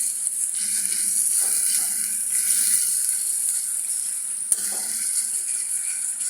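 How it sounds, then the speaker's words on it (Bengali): Masala spice paste for a catfish and raw banana curry sautéing in a pan, a steady bright sizzle with occasional scraping and rattling of a spatula, no voices. "এবার আমাকে মশলাটা ভালো মতো কষাতে হবে।"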